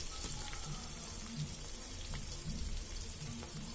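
Cardamom, cloves, cinnamon, caraway, biryani masala and cashews fry in hot oil for a village-style country chicken curry, giving a soft, even crackle with faint clicks of stirring.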